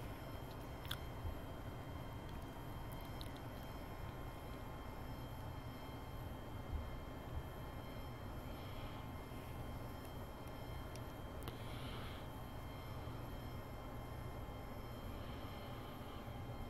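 Steady, faint engine drone of an aircraft back taxiing on the ground in the X-Plane 11 flight simulator, a continuous low hum with a few small ticks and clicks and no speech.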